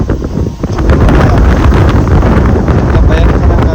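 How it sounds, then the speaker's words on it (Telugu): Strong, gusty wind roars steadily across the microphone in forested hills during the rainy season, a loud, continuous broadband rush with no clear breaks. "గాలి వీస్తుంది చూశారు కదా ఫ్రెండ్స్"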